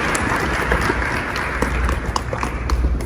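An audience at a talk on pollinators and biodiversity breaks into applause to welcome a speaker, a dense, even patter of clapping from a fairly close crowd.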